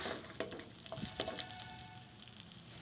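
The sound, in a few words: garlic frying in hot oil in a pan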